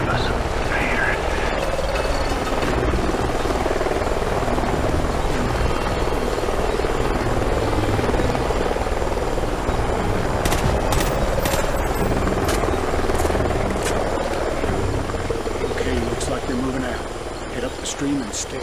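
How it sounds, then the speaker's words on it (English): A helicopter in the Call of Duty: Ghosts video game flies nearby, its steady rotor drone continuous and fairly loud throughout, easing slightly near the end, with game ambience around it. "Sounds like a chopper's up ahead of us."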